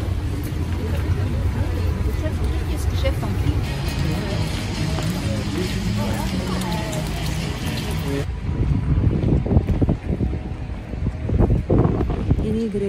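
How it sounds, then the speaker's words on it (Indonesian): Strong wind in Tromso city centre in winter, a loud continuous rumble and buffeting beside a church with traffic noise mixed in, gusting harder in the second half while a person speaks over it. "anginnya lumayan kencang"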